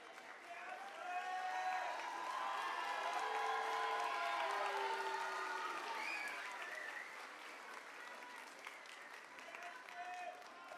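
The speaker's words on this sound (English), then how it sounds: "Can we have one more round of applause for Miss Manafo's class?" Audience at a fifth grade moving up ceremony applauds the class in sustained, even clapping that swells and then slowly fades, faint and distant, with cheers and voices mixed into the crowd.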